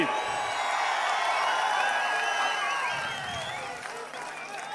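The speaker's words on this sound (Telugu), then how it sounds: "గట్టిగా చప్పట్లు కూడా చెప్పండి" Sustained crowd applause and cheering at a political rally speech by Chandrababu Naidu fill the whole stretch at a steady, loud level, with whoops rising above the clapping.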